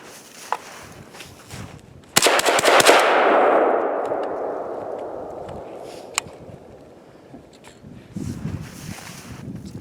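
An AKM rifle fires close by in a quick cluster of sharp cracks followed by a long rolling echo that slowly dies away, with a couple of fainter clicks and handling noises afterward and no talking.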